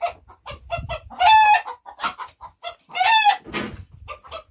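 Chickens clucking and a rooster crowing in a children's story, two drawn-out crows standing out among short repeated clucks, clear and close with no talk over them.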